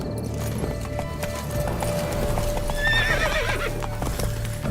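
Horse in The Witcher 3: Blood and Wine, with steady clip-clop hoofbeats running throughout and a loud, clear neigh rising near the end, set over game ambience.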